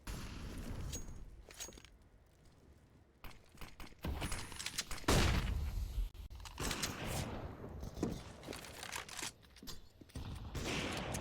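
Gunfire from pistols and a MAC-10 in a Counter-Strike match: scattered bursts and single shots, some close and loud, others distant, with heavy booming bursts around the middle and no talk.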